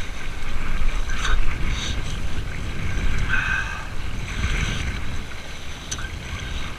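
Strong north wind sweeping across Lake Peipus with choppy waves, a continuous close rush of gusts and water splashing with no talking.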